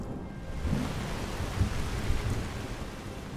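Steady rain with low rumbling thunder in Skyrim, a continuous dense wash of noise with a few heavier booms rising out of it.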